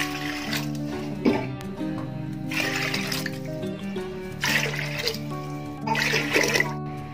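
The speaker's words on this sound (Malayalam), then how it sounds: "ഇനി അതിലോട്ട് നമുക്ക് വെള്ളമൊഴിക്കാം." Water is poured into a pot of washed broken wheat for payasam made in a pressure cooker, a continuous rushing splash that swells and eases in waves over steady background music.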